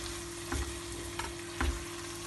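Chopped hot peppers sizzle and fry steadily in a pan, a continuous crackle at moderate level with a couple of brief stirring scrapes, no voices.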